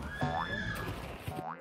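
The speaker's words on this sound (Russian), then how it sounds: "Да, это лошадь." A cartoon horse whinnies in a bright, rising-and-falling neigh, followed by a second shorter whinny near the end, with a tonal musical hum underneath; no talking.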